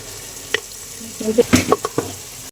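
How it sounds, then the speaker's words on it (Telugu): Pieces of fish rubbed with chilli powder and salt sizzle in hot oil for a village fish curry. A steady frying hiss carries sharper spatters and a few clattering stirs and bumps. "మనము కారం ఉప్పు కలిపి పెట్టుకున్న చేప ముక్కలు అయితే నూనెలో లైట్ గా అయితే వేస్తున్నాం మామ"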